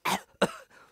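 Two short, sharp coughs come close together near the microphone, followed by a softer breathy trailing sound.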